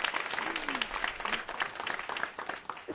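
An audience at a climate action event applauds, with dense, continuous clapping from many hands filling the room and a brief voice audible under it.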